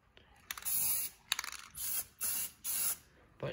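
Aerosol spray paint hisses onto a 1977 Camaro seat in several short bursts of about half a second each, close and loud, with brief pauses between them.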